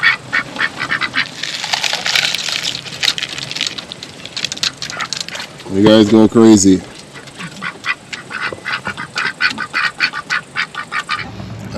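Ducks feeding on black oil sunflower seed and duck food make a busy run of loud, close quacks and dabbling sounds throughout, with one strong harsh honk-like call in the middle and a person speaking briefly over them.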